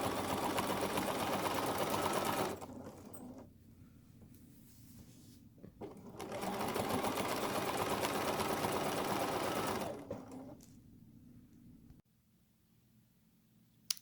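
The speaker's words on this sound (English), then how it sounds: "take my time, go through here, keeping my guide bar on that row of stitching, and just keep stitching." A home sewing machine quilting straight lines across a spray-basted quilt, guided along a row of stitching by a guide bar; steady close whirring runs in two long bursts, stopping briefly between them and falling quiet near the end.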